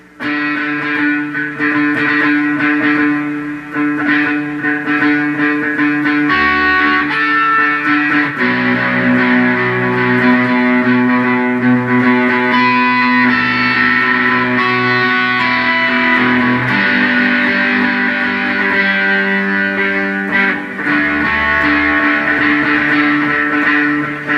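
Electric guitar playing steadily with sustained, chiming chords and some effects, loud and continuous throughout, no voices.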